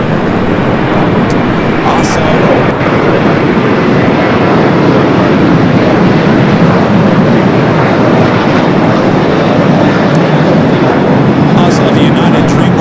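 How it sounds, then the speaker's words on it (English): A Boeing Dreamliner jet powers up on the runway at LAX, a loud, continuous broadband engine roar filling the whole span, steady and close with no pauses. "Currently has its eyes on that Dreamliner. Still waiting to take off."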